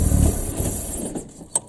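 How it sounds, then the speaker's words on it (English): Audi A3 2.0T FSI engine cranking and briefly running with its high pressure fuel pump disconnected; a close, loud churning rumble that fades out, ending in a short sharp click. "run the engine over now when it hasn't got the pump connected to reduce the pressure in the lines"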